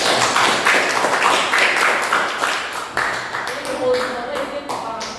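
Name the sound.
applause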